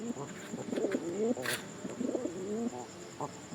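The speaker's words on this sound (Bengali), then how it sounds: "পায়রাটার যেটা হচ্ছে হেড শেপটা, মুখটা দেখো, এটা কথা বলছে" A pair of pigeons coo close by in repeated throaty rolling phrases. A steady background hum runs underneath and a brief hiss breaks in midway.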